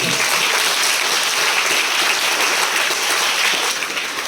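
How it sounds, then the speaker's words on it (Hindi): Loud, continuous applause from schoolchildren at an Independence Day event, a thick wash of many hands clapping throughout without pause. "बच्चों से निवेदन है ताली बजाने में कंजूसी ना करें"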